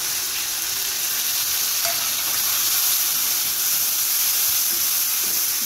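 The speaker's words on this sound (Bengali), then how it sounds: "এগুলি এবার ভেজে নেব একটু" A ground paste of cumin, coriander, ginger and green chili fries in a pan with a loud, continuous, hissing sizzle that stays even and close, with no voices over it.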